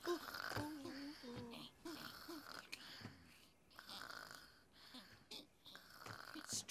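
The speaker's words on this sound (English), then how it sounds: "Someone's snoring." A man snores in a few rough, rasping pulses with short pauses between them, close and fairly quiet, amid other faint voices and rustling.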